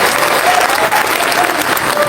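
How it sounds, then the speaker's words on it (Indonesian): Audience applause fills a discussion session at the Jakarta Future Festival 2025, a dense, steady wash of many hands clapping with no gaps, close and loud, with faint crowd murmur beneath. "Kasih tepuk tangan dong, Bunda Tika."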